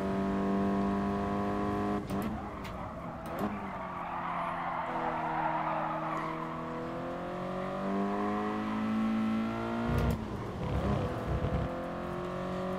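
A race car in Gran Turismo Sport revs hard and shifts through the gears, with a loud, sustained engine whine rising and falling in pitch, brief tire squeals and no talking.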